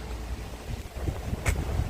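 Steady wind rushes across the microphone, a low rumbling buffet with a brief gusty burst near the end.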